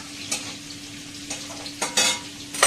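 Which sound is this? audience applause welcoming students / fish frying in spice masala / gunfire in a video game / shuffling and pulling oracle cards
fish frying in spice masala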